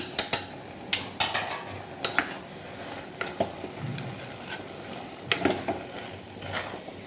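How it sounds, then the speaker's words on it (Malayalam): Biryani masala being stirred in a pot, heard as a soft sizzle with sharp scrapes and clinks of a utensil against metal, busiest early and easing off; no one speaks. "നല്ലോണം ഇളക്കുക."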